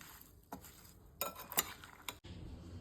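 Mango pickle being stirred with spices in a bowl, a spoon scraping and clinking against the dish in a few sharp knocks and scrapes over soft background rustle, close by and fairly quiet.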